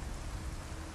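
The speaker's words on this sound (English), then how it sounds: "You just love to stay out in the rain" Steady rain in the video game Resident Evil 4 Remake, a dense, even hiss of falling water that fills the whole moment at a low, constant level.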